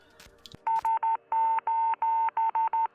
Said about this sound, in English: the brothers intercepted an SOS Morse code distress signal from a cosmonaut orbiting Earth